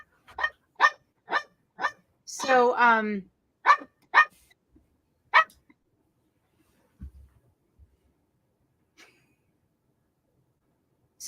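A dog barks in quick sharp bursts, about half a dozen loud yaps up close, with a person speaking briefly among them before the room falls mostly quiet.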